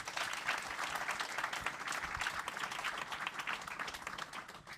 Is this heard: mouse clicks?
no